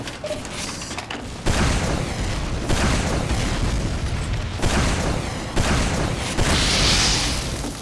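Repeated heavy booms from rocket launcher explosions in Team Fortress 2, close and loud, arriving every second or so over a dense, constant roar of battle noise, with no voices.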